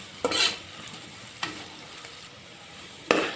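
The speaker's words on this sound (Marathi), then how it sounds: "कांदा शिजा कमीत कमी 5 ते 10 मिनिटं लागतं" Onions for veg biryani fry in a pan with a soft steady sizzle, and three brief scraping stirs break through it up close.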